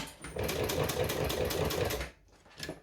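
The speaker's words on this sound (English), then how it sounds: "I'm also on this machine because I want the walking foot." A walking-foot sewing machine stitches a strap in a quick, even burst of chattering needle strokes lasting about two seconds, then stops, followed by a faint short mechanical clatter, close and alone.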